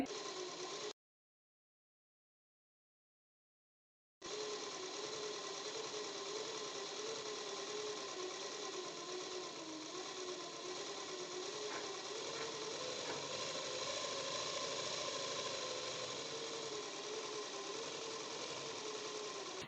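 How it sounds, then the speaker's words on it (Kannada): A sewing machine stitches a fall onto an old cotton saree, a steady close mechanical whirring hum that runs continuously, broken by one silent gap of about three seconds, with no talking. "ನಾನಿವಾಗ ಸ್ಟಿಚ್ ಮಾಡ್ತಿರೋ ವಿಡಿಯೋನ ನೀವು ನಿಧಾನಕ್ಕೆ ನೋಡಿದ್ರೆ ಯಾವ ರೀತಿ ಸ್ಟಿಚ್ ಮಾಡಬೇಕು ಎನ್ನುವುದು ನಿಮಗೆ ಗೊತ್ತಾಗುತ್ತೆ"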